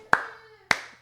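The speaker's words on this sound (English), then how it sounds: "Do you hear me clapping right there?" Two sharp hand claps about half a second apart, close and crisp, each ringing briefly into a small room.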